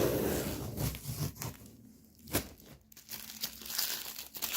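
A plastic snack bag of Ash Ash tomato-flavored chips is torn open up close, giving loud crinkling and tearing bursts with short pauses between handling noises.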